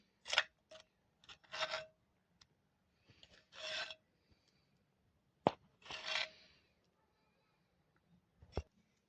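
Thick homemade guava chutney scooped with a spoon into a small bowl in a home kitchen, giving several short rasping scrapes and soft wet clinks in separate bursts with quiet pauses between them.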